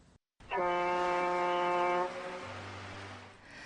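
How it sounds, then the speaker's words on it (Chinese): The Liaoning aircraft carrier sounds its ship's whistle at sea: a deep, loud blast for about a second and a half, then a lower, softer tone lingers as it fades. "鸣响汽笛"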